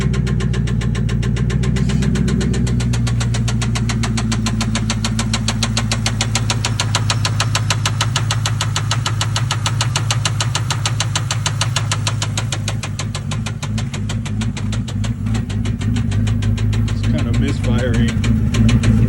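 A 2000 Lincoln Town Car with a swapped engine runs loud and close, its uneven knocking misfire pulsing steadily throughout with voices talking over it at times.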